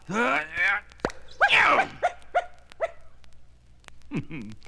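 A dog barks near a vacuum cleaner, giving a few short barks, yips and whimpering groans spread through the moment, with a person talking in between.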